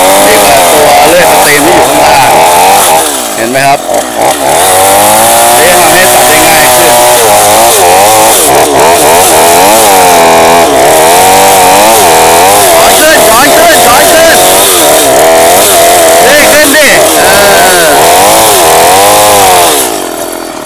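A chainsaw roars loudly and continuously, engine pitch rising and falling as it bites into wood, close by and dominating the scene.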